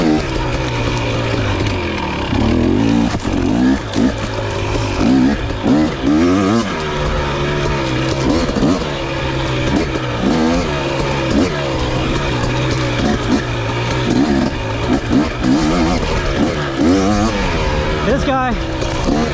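A KTM 300 XC-W TPI two-stroke dirt bike is ridden through tight trail sections, its engine loud and continuous, rising and falling with throttle and downshifts for the whole stretch.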